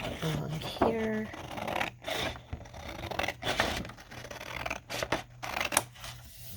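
Scissors cutting through paper for a junk journal pocket, giving close, repeated scratchy snips and rustles over a steady low background hum.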